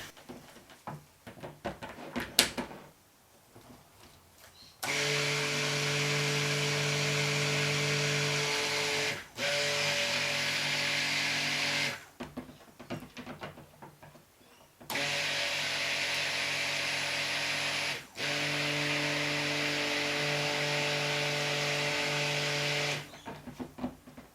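An electric blender whizzes a blood orange soap mixture in two long, steady, loud bursts, each about seven seconds with a brief dip midway, and a quiet pause between them.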